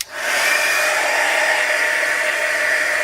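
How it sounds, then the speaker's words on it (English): A heat gun blows steadily on cardstock soaked with rubbing alcohol, a loud continuous airy roar with a hissing edge that starts abruptly and holds unchanged throughout, with no voices. "I'm going to use my heat gun to move the color"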